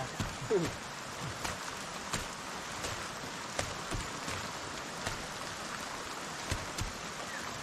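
Steady broadband rain patter with scattered louder drops and occasional faint voices during a bitter gourd harvest, continuous throughout.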